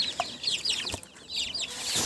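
Chicks cluck and chirp in a busy, overlapping chorus while being fed, fairly close, with a short rustle partway through.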